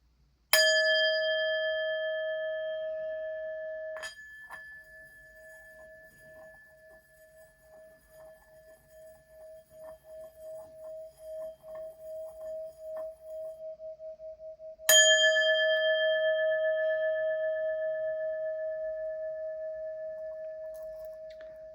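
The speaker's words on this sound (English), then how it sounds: "I'm going to ring the bell." Two strikes of a bell, a singing bowl or chime rung as part of an energy reading, each giving a loud clear tone that fades slowly, the first ringing for about fourteen seconds before the second, near and alone.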